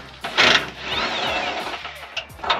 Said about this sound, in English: All right, we're gonna take an impact.